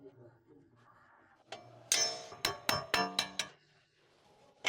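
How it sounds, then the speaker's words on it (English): Metal clanging from a hammer tapping out suspension hardware on a 2013-2020 Ford Fusion, a quick series of about six sharp taps ringing out, faint background noise before and after. "tap out the hardware with a hammer"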